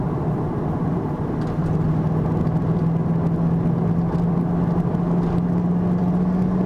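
A 2001 Qvale Mangusta cruising at highway speed in fourth gear, its engine holding a steady drone with a slowly rising tone beneath constant road and wind noise, close inside the cabin.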